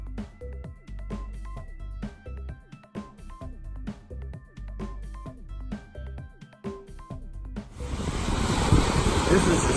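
Rushing water roars steadily on the Pacific Crest Trail, rising louder and broader in the last couple of seconds, with a broadband wash and no speech.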